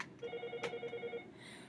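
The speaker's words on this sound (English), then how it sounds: "Excuse that phone ringing in the background" A telephone rings in the background with a rapid burst of about ten bell-like trills lasting roughly a second, fairly faint, with no talk over it.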